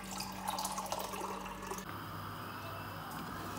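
Water is poured steadily into a pressure cooker of mutton for daal gosht, a close, continuous splashing rush that shifts to a lower, softer pour partway through.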